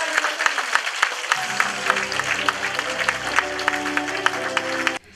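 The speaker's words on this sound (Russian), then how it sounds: "И громкими аплодисментами давайте поздравим нашу Наталью" A hall audience gives loud, sustained applause to congratulate Natalya at her anniversary celebration at a culture house, dense clapping over soft music that stops abruptly at the end.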